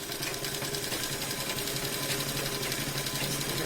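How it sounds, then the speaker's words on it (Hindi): Rapid, even whirring and ticking of a sewing machine stitching seams of an A-line nighty, a continuous close mechanical hum throughout. "इसी तरह पूरा नीचे तक सिल देंगे और पूरा साइड भी सिल देंगे।"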